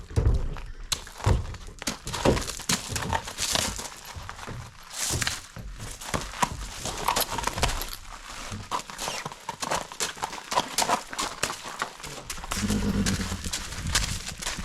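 Irregular hoof clip-clops of a mare moving at a walk, close by, with some thumps and shuffling noises mixed in.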